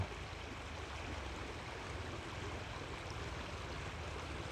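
A stream flows along the abandoned Laurel Line rail route, giving a quiet, steady broadband rush of moving water with no voices or other sounds over it.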